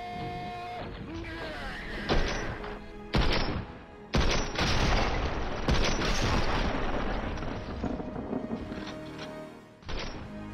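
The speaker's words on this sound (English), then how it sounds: "Apply bullet impact on the bottom ramp structure" Gunfire striking a ramp structure in Fortnite, a run of loud cracking impacts and crashing bursts with short pauses between them, set amid dense game noise.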